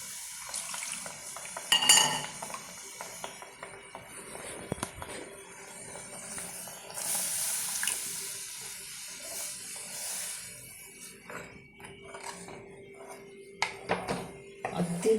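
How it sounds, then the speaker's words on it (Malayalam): Water, partly rinsed from a grinder jar, is poured into a pan of dried prawn masala curry, with splashing, pot and utensil clatter and stirring scrapes, fairly quiet and close, in bursts over about fifteen seconds without speech. "വെള്ളം ഒഴിക്കാം."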